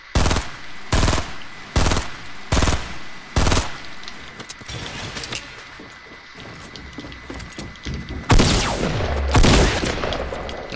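Rapid bursts of gunfire in the video game Fortnite, several loud clustered volleys in the opening seconds, then busier mixed firing and a couple more heavy bursts near the end, with no talk.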